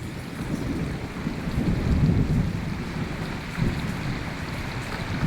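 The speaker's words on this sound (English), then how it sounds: "there is quite a bit of thunder with it," Low rumbling thunder rolls beneath a steady wash of rain, swelling midway and then easing off.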